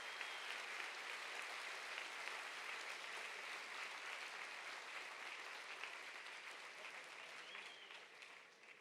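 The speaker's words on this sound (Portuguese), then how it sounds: "E eu queria convidar você a aplaudir o Senhor, porque Ele é a nossa Páscoa." A church congregation applauds together during an Easter morning service, a steady, even roar of many hands clapping that holds throughout and eases slightly at the end.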